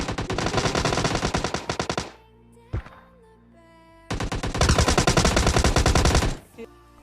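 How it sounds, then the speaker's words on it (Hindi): Rapid automatic gunfire from the video game PUBG Mobile rattles in two long, loud bursts, separated by a quiet pause with one sharp single shot, and ends in a brief trailing clatter. "हमको सामने फायरिंग की आवाज आती है तो हम रश करने के लिए चल देते हैं"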